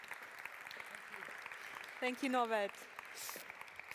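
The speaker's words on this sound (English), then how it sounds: "give it up with another round of applause" Moderate audience applause at a diversity night event, a steady patter of clapping running throughout while someone briefly speaks over it partway through.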